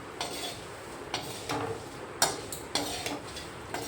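Roasted coconut slices are tipped into a metal pot, producing a series of scattered clinks and rattles of metal with no talk.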